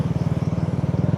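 Suzuki RS 125 fi motorcycle fitted with an Apido pipe exhaust, revved close up, giving a loud, steady, rapid pulsing exhaust note with no talk over it.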